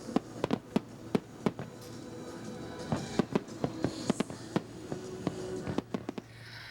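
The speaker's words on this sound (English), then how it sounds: "it was a perfect night to take in the fireworks show" Fireworks bursting over Toronto on a warm summer night, a rapid irregular string of sharp distant pops and cracks over a steady low crowd murmur, fairly faint overall.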